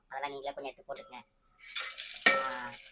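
Spices and leaves hit hot oil for a mushroom biryani, bursting into a loud, crackling sizzle that carries on steadily after a few words of speech.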